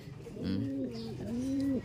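Pigeons cooing close by, a few soft, low rolling coos in a steady rhythm over faint background noise.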